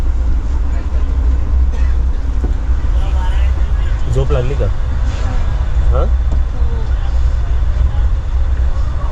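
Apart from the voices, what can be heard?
inside moving Tari Express train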